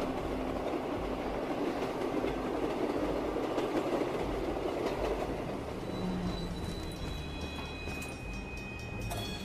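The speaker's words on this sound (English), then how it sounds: "Maybe I should just keep riding the train." Train ride in Call of Duty Black Ops III zombies, Shadows of Evil: a steady loud rumble with rhythmic rail clatter throughout, a few faint high tones entering near the end, no talk.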